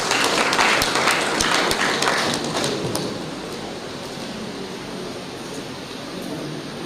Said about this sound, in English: Ladies and gentlemen, please can we give another applause?